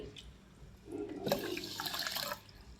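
Water from a small bowl is poured onto sugar in a pot to make a one-string sugar syrup for khaja, a steady splashing pour lasting about a second and a half, close and moderately loud with no talk.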